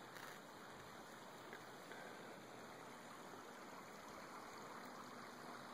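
Porter Creek running through Huntington Park in Bay Village, Ohio, on a winter day: a steady, broadband rush of flowing stream water, moderately close and constant throughout with no pauses or voices.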